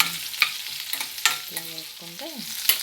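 Urad dal, mustard seeds, cumin and green chillies crackle in hot oil as a tempering for raw banana chutney, with a soft sizzle broken by several sharp spoon clinks and stirs.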